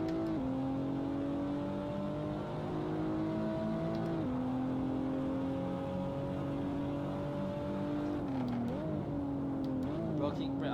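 Toyota Supra A90 lapping in Assetto Corsa, with a steady engine drone that holds and shifts pitch through gear changes and braking, at moderate level with no talking.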